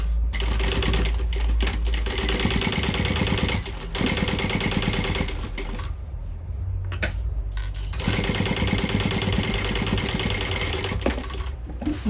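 A sewing machine runs in steady, fast bursts, stitching a bag lining's gusset and base seam at full seam allowance, with brief pauses between runs of close, continuous needle rattle.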